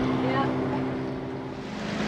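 A sailboat's engine drones steadily with a low humming tone while motoring, mixed with wind off the starboard bow and water rushing past, and a voice speaking briefly.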